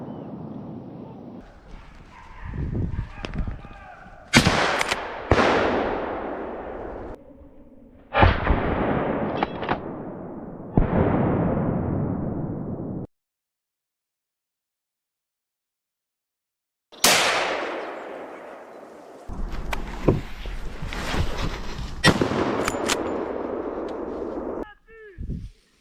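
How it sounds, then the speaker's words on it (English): Rifle shots fired at wild boar during a hunt, several loud sharp blasts with long ringing decays spread across the stretch, with dogs barking in between and a silent gap midway. "Two shots fired straight from the front."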